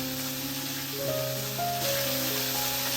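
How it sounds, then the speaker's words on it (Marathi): Chopped ridge gourd hitting hot oil tempering in a home kitchen, giving a steady bright sizzle and hiss that stays strong throughout, with faint tonal ringing underneath. "त्याला आपण घेतलेलं दोडका आपण फोडणीत टाकायची"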